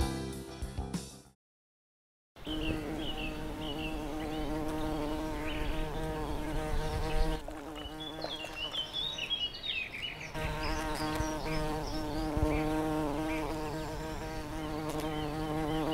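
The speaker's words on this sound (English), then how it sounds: "Crisp, you have to be more careful around bees." Cartoon bees buzzing steadily in an animated scene, a continuous droning hum layered over background music, with a brief silent gap near the start.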